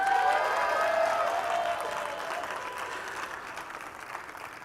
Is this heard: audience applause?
yes